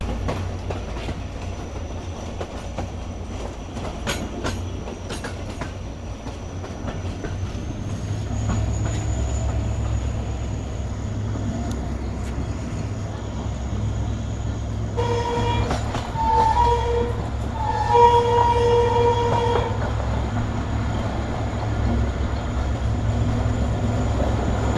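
A short passenger train runs on the rails between Mirpurkhas and Karachi, giving a steady close rumble with clicking wheel noise and occasional squeals and whining tones as it rolls on.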